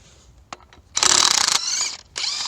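A ratchet clicks through several bursts of rapid pawl ratcheting while loosening the crank pulley on a Daihatsu Fourtrak engine, close and metallic with short pauses between strokes.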